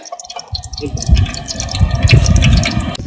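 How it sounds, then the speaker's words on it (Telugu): Cooking oil pours into a kadai for bagara rice, a close, bubbly liquid stream with gurgling splashes and small drips that swell and fade over a few seconds. "బగారా రైస్ ప్రిపరేషన్ కోసం ఒక కడాయి పెట్టుకున్నాం అందులో ఆయిల్ పోసుకోండి"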